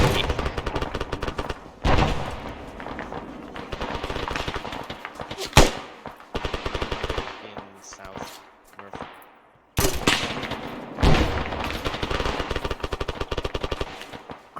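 Grenade launcher high-explosive rounds and small-arms gunfire in a military squad-training video game, with loud bursts and sharp blasts across the clip, several heavy bangs standing out over sustained firing.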